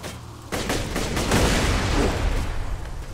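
Dense gunfire and explosions from the Borderlands 2 shooter game erupt suddenly and keep up as a loud, sustained barrage of crackling shots and booms.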